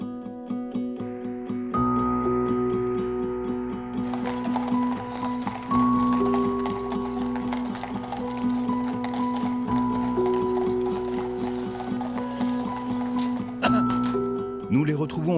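Young horses selected for military service have hooves clip-clopping faintly beneath a continuous musical backing, with no clear separate hoofbeats standing out over the steady tones.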